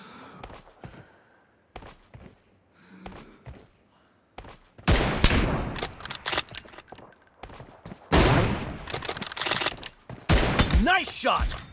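M24 sniper rifle shots in a PUBG Mobile 2 vs 2 team deathmatch, loud sharp cracks in bursts after a quieter stretch of small clicks and footsteps, with a voice heard briefly.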